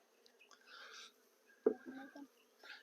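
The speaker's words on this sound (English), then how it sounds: "So it's totally packed out here with bees." Honey bees buzzing around a packed, crowded hive during a beekeeping inspection, a faint steady hum with a brief sharper sound midway, under soft background voices.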